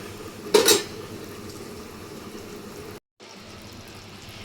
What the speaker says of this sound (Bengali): এখন এটা আমি আবার ভালো করে নেড়ে চেড়ে নেব